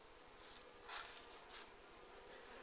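Robber bees buzz faintly around a hive in a continuous insect drone, with a couple of brief, louder passes as bees fly close by.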